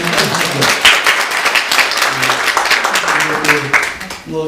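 A Korean Sunday worship congregation claps to celebrate a birth: a sustained patter of many hands, with voices talking over the applause before it thins out at the end.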